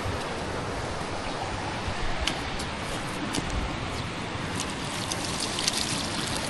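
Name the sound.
water flowing from a garden hose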